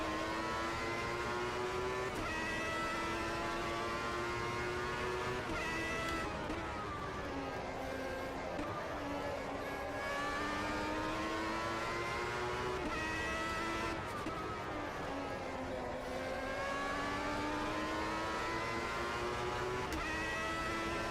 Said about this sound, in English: Sounds like a V12 engine.